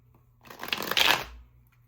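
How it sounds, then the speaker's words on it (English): A deck of tarot cards is reshuffled once up close, a short soft riffling burst that swells and fades within about a second, with no talking. "We're just going to reshuffle just so we can reset the energy."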